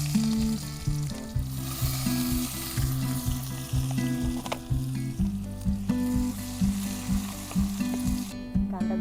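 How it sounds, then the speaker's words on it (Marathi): Onion hits hot oil in a kadai for an Aagri-style vam khara, a loud continuous sizzle with occasional stirring clinks, heard close while a steady tonal musical background plays underneath. "तेल गरम झाले, कांदा टाकून घेते"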